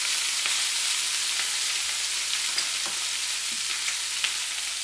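Onion fries in a pan as chicken wings are prepared, a dense, steady sizzling hiss close by with a few faint clicks of stirring underneath.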